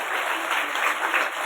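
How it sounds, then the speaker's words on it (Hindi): Loud, dense applause from an audience at a Haryana sports association gathering in Bhiwani, a steady wash of many hands clapping throughout without pause. "भिवानी के लिए जोरदार तालियां"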